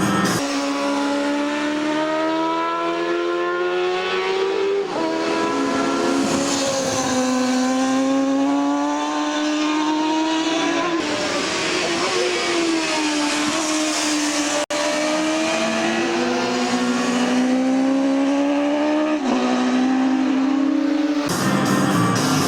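Racing motorbikes at the Isle of Man TT roar past one after another, their engine pitch sweeping up and falling away in repeated loud fly-bys with no talking.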